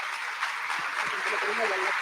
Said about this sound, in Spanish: Un aplauso, por favor, para Catalina.